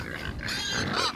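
Pigs on a pasture farm, a large black breed with sows and a boar, grunt and squeal together in a loud, continuous chorus of overlapping calls close by.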